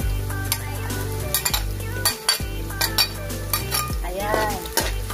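Onions frying in a pan for squid adobo, giving a steady sizzle broken by frequent scraping stirs and clinks of a utensil against the pan, close and fairly loud.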